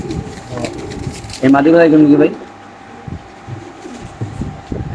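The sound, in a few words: pigeons cooing in cages at a pigeon farm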